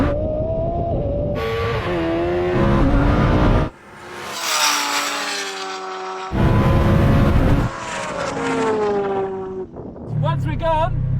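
A Lamborghini Huracan Turbo and a Kawasaki H2R superbike drag racing, with loud engine roars rising in pitch through gear changes, sharp drops at shifts and high whining revs, heard close with no talk over it.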